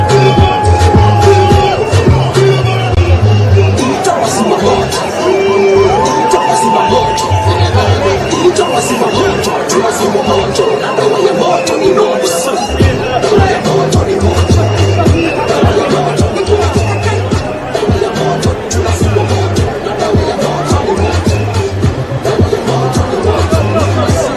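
A large crowd at the UCI Road World Championships in Kigali, Rwanda, chatters and murmurs continuously while waiting for the winners, with occasional bangs, scattered cheers and laughter, and a commentator speaking over the steady babble.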